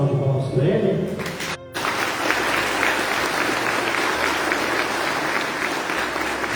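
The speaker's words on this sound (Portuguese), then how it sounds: "Vamos dar uma salva de palmas para ele?" A church congregation at an Easter Vigil Mass breaks into sustained, steady applause for a child about to be baptized, preceded by brief talk from the priest.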